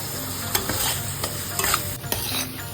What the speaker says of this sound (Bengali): এবার আলুটা দিয়ে ভালো করে কষিয়ে নেব